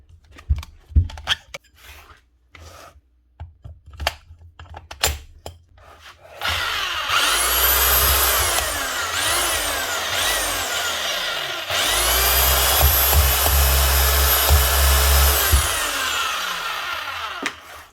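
A Hikoki H41MB2 rotary hammer drill with a fault whirs steadily and loudly, spinning freely with a smooth rotary hum and no percussive hammering, after some brief knocks and handling sounds.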